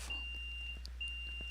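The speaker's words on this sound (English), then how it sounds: "Problem is the alarm goes off." A steady high electronic alarm tone sounds continuously in a video game heist, a thin sustained beep with a brief dip midway, over a constant low hum and faint clicks.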